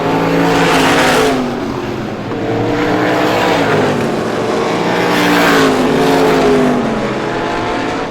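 Stock race cars roar past on a speedway during a feature race, engines rising and falling in pitch as they speed by, loud and continuous.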